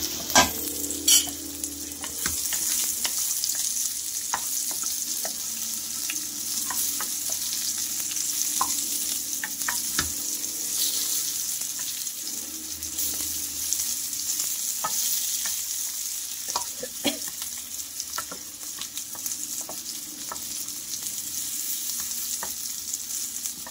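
Bitter gourd (karela) frying in ghee in a village-style pan: a loud, steady hiss of sizzling with occasional sharp pops and scraping stirs, close and continuous throughout, with no voices.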